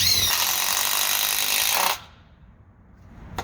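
DeWalt DCF850 impact driver with a star bit sinking a 2.5 inch screw, a loud, continuous rattling hammer whine lasting about two seconds, then stopping abruptly, followed by quiet and a brief click.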